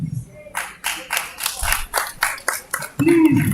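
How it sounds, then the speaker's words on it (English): Audience clapping at a fellowship induction ceremony for a Sierra Leone chapter, a few uneven bursts of claps spread through the room, with a voice speaking near the end. "Please clap for Ahmed"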